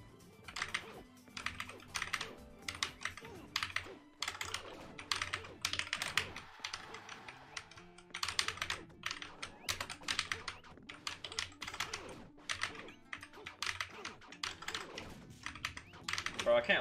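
Rapid keystrokes on a computer keyboard while playing Super Smash Flash 2 with keyboard and mouse, dense irregular clicking bursts running throughout, close and clear, with faint voices in the background.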